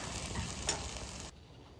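Spices and chilies for beef trotter nihari fry in oil with a close, steady sizzle, then the sound drops abruptly to a faint hiss near the end.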